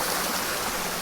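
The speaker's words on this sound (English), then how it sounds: "crossing the most significant little stream, creek, brook, whatever you want to call it, water" A small stream, creek or brook flows steadily across a hiking trail in a state park, a continuous close-up wash of rushing, gurgling water with no speech.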